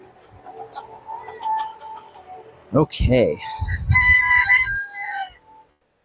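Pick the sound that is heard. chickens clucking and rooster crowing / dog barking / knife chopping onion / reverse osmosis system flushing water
chickens clucking and rooster crowing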